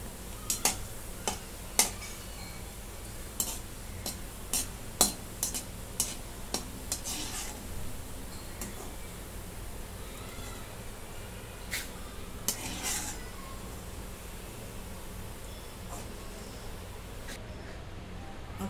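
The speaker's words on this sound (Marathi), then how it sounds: "आता काजू आणि बदामाचे काप ते पण तळून घेते." Cashew and almond slices frying in a pan make a soft, continuous sizzle. Irregular sharp clinks and ticks of a utensil against the pan run through it, quiet and close, with no talk.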